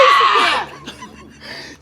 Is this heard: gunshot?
no